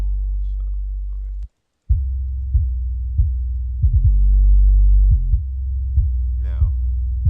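Trap beat built in FL Studio 10, led by loud booming 808 sub bass notes with sliding pitch, punctuated by steady kick-like hits, a brief dropout near the start and a faint high warbling sound late.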